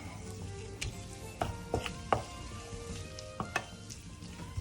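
Guanciale frying in a pan with pasta, stirred steadily: a continuous close sizzle broken by several sharp scrapes and clinks of the utensil against the pan, with no voices.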